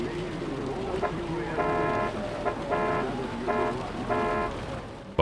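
A car horn in the video game Cyberpunk 2077 sounds in four bursts of tooting, each under a second, over engine and street noise, with a voice speaking underneath.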